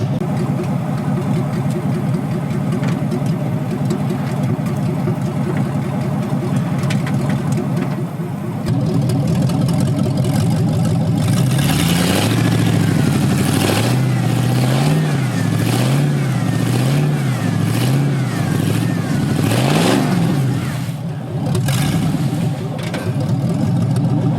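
A 5.3 LS V8 swapped into a Firebird with an open differential idles, then revs hard in repeated surges during a one-wheel burnout, the engine loud and close with a brief voice under it.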